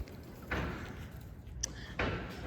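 The heavy doors of an antique Otis pull-the-rope freight elevator at a former screw factory in Lakewood, Ohio, close with two dull thuds and a sharp metallic clank between them in a noisy, echoing space.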